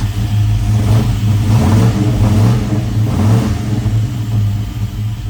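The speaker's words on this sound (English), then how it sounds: "What if I give it some throttle here?" A 1985 Chevy C10 engine with a carburetor revs under throttle, loud and close, a steady deep roar that swells and eases in several waves with no talking.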